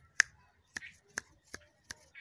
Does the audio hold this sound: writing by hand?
no